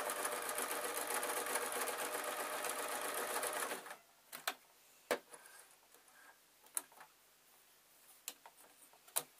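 A sewing machine stitches fast with a dense mechanical whir for a few seconds while sewing a tissue packet cover, then stops, leaving scattered light clicks and taps.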